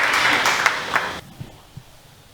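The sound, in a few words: audience applause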